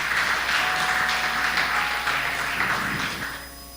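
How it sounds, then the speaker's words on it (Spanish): A church congregation at a Spanish-language sermon gives sustained applause, a loud, dense wash of clapping mixed with background music tones that tapers off near the end. "Dale un aplauso a Dios"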